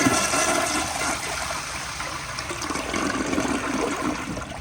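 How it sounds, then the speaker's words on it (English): A 1.6-gallon 1992 Kilgore Argus toilet flushes, a loud, close rush of swirling water that holds steady and gurgles toward the end, with no talk over it. "So now I'll do another flush at this angle."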